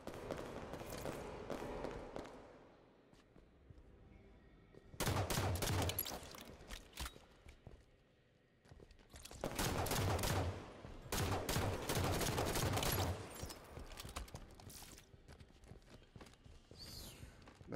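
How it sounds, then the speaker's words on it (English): Rapid bursts of automatic gunfire in Halo 5: Guardians SWAT mode, several loud sustained volleys separated by quieter stretches. "I took a lot more shots than I needed to."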